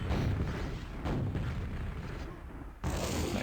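Rocket fire and explosions in a Quake duel match, with heavy booming blasts and rumbling detonations in quick succession and a sharp new burst near the end.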